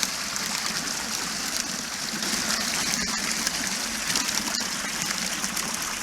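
A swimming pool water feature splashes in a steady, close, full-bodied rush of falling water, continuous and even with no pauses.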